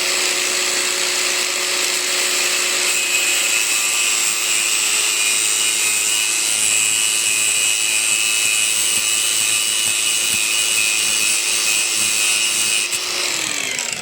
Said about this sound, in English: We're going to cut that now with a grinder. Let's go. And let's start cutting.